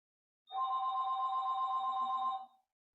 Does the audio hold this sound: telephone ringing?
yes